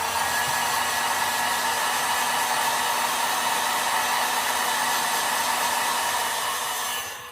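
A hair dryer or heat gun heat-setting paint on a fishing lure: a steady, close, loud blowing whir lasting several seconds before cutting off, with one brief spoken word.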